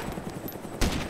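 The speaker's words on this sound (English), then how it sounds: "I'm gonna shoot off this 6 rounds just to reload." Gunfire in the zombie survival game DayZ Origins, a burst of close shots with one sharp, louder report near the end.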